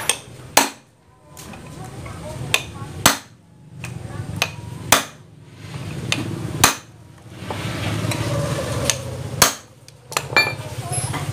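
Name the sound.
hammering bolts on Honda Wave 100 motorcycle starter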